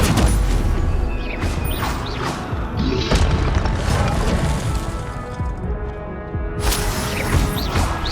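Spell combat in Hogwarts Legacy: a Stupefy stun spell bursts with loud booming, crashing impacts and whooshing magical flares, several hits layered densely over eight seconds of game effects.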